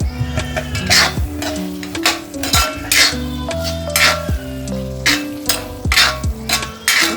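A spoon stirs and scrapes mutton roast masala in a metal pan, giving steady clinks and clanks in an irregular rhythm with a light sizzle underneath, close and fairly loud.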